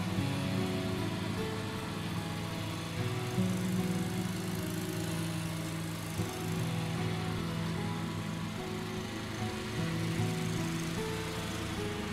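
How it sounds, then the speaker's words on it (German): Cartoon lawn mower mowing the grass on a football field, a continuous moderate engine drone with slight wavering pitch, steady and unbroken for the whole stretch. "Der Rasenmäher fährt über das Fußballfeld. Er mäht den Rasen."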